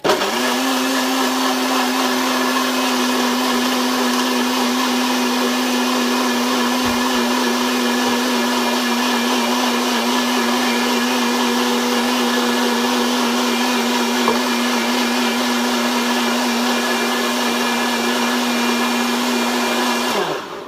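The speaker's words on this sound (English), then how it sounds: "I use my trusty NutriBullet" A NutriBullet blender whirs loudly and steadily at close range, blending an English toffee Heath Bar Shakeology shake with a constant high motor whine for about twenty seconds before cutting off at the end, with no talk.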